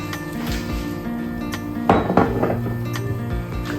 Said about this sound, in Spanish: Sartén bien caliente, vamos a poner 2 trozos de mantequilla, un filín de aceite de oliva extra virgen y vamos a sellar la carne.